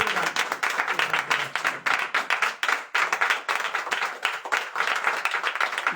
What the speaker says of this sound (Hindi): एक जोरदार ताली यीशु के लिए मेरा